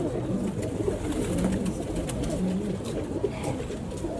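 Pure-breed pigeons kept by a breeder, cooing in soft repeated low phrases close by over a busy background of rustling and small bird noises.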